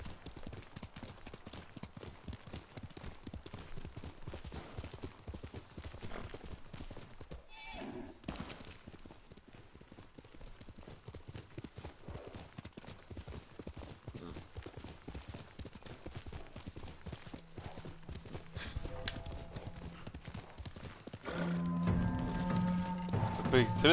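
Rhythmic clip-clop of horse hooves galloping steadily in the video game Ghost of Tsushima, close and continuous, with a brief louder burst of other noise near the end.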